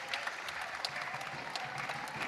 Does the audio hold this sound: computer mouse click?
no